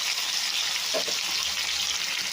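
Steady, close sizzling of green beans and thick-cut onion frying together in oil in a pan, continuous hiss with a faint stir or clink midway.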